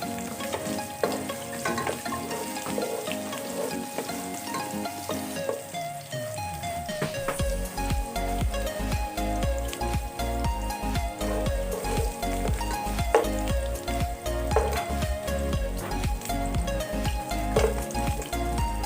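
Chopped onions sauté in a pan while salmon sinigang is being prepared, with a steady, crackling sizzle that runs throughout over rhythmic background music.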